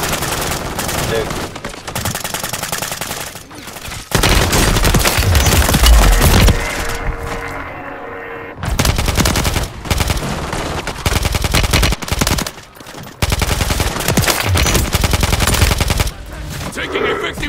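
Dense automatic and rapid gunfire from the Call of Duty video game fills the clip, loud and sustained bursts with brief lulls, booming low impacts mixed in, and faint voices occasionally underneath.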